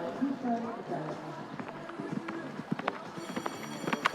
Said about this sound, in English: she's riding a new horse for her, Danielle,